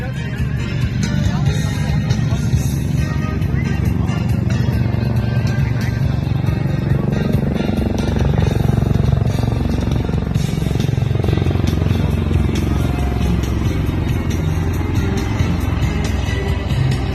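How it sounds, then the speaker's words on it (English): MV-22 Osprey tiltrotor aircraft passing over a beach at the Pacific Airshow, a loud steady low rotor and engine roar that swells slightly midway, with a commentator talking over it throughout. "One of the most unique aircraft anyplace, the MV-22 Osprey"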